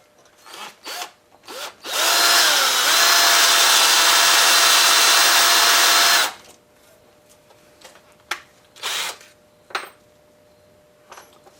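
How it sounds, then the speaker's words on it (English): A reverse drill bores into a Maytag 72 engine during repair, one loud, steady whine of about four seconds, with clicks and short metallic taps from handling the tool before and after. "now we'll try our reverse drill."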